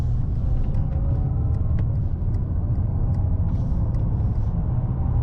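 A 2025 Mercedes-AMG E53 plug-in hybrid sedan cornering, heard from inside as a steady, loud low road rumble and engine drone with no speech.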